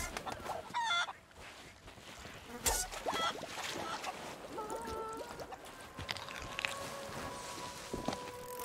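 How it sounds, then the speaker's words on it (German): Chickens clucking aboard a pirate ship in the video game Sea of Thieves, irregular calls mixed with footsteps and creaking ambience, fairly faint and scattered through the scene. "Hühner!"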